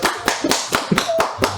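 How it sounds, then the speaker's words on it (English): A group claps their hands in a steady rhythm, six or seven sharp beats about a quarter second apart. The claps are fairly close and clear over a faint room background. "Everybody clap your hands."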